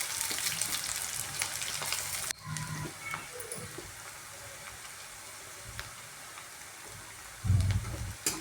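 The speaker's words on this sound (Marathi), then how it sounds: "तिथं तेल तापायला टाकलं, जिरे, मोहरी आपलं आणि लसूण मिरची जे ठेचून घेतलं होतं ते घातलंय" Cumin, mustard seeds and crushed garlic and chili frying in hot oil give a steady close sizzle and crackle. A louder burst of spattering comes about two seconds in, another near the end, and there is no talk.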